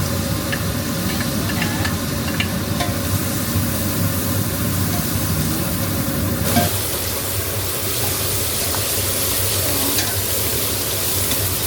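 Steady, dense sizzling of onion sautéing in butter in a pan, loud and continuous, with a slight shift in texture partway through.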